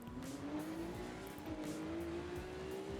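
Race car engine in the Assetto Corsa Evo racing game, a steady rising drone as the car accelerates, with tire squeal and skidding over it, loud and continuous with no talk.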